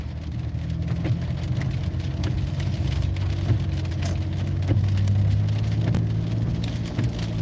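Rain drums steadily on a car during a driving lesson, a loud constant patter over the low rumble of the moving vehicle, with no speech.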